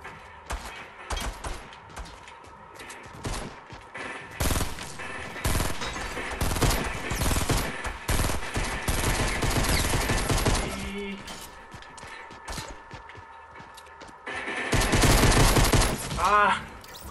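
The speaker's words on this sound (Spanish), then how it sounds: "no me gustan estas armas que tiran en ráfaga de 3 tiros" Rapid bursts of three-round-burst gunfire from Fortnite crackle in short clusters, loud and close, separated by brief gaps, with a final heavy burst near the end.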